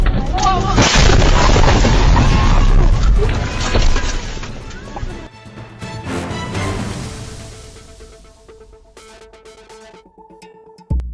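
A pickup truck explosion on a road: a massive, roaring blast fills the first half, loud and sustained, then fades into a long rumbling decay with scattered crackles.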